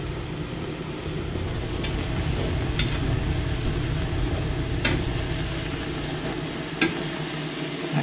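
Collard greens frying in oil in a pan while being stirred, with a steady loud sizzle throughout and a few faint scraping clicks of the utensil now and then.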